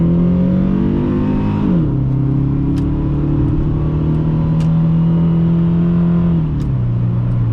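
Close, loud engine drone from a 2001 Dodge Intrepid 3.5L accelerating on a test drive, its pitch climbing steadily between two gear shifts, with no talking.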